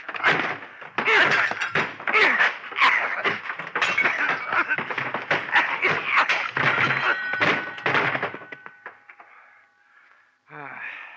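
Radio drama fight effects follow a chair being thrown, a dense run of sharp cracks, thuds and blows that is loud and close and is mixed with a voice. The noise thins out near the end.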